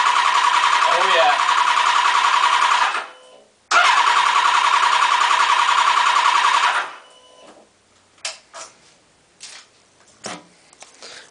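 Triumph TT 600 motorcycle fitted with a Scorpion exhaust revs hard in two sustained high-pitched bursts with a brief drop between, loud and close, then settles into quiet idle with scattered clicks and handling noise.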